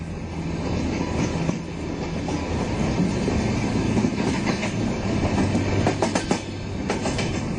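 A train running on rails in India, steady rolling rumble with rhythmic clickety-clack of wheels over joints and occasional metallic squeaks, close and continuous without speech.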